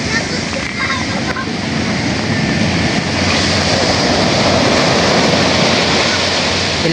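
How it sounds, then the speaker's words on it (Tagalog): Strong ocean waves and surf, a loud continuous roar and wash that swells slightly partway through, steady and close with no clear breaks. "Lakas ng alon."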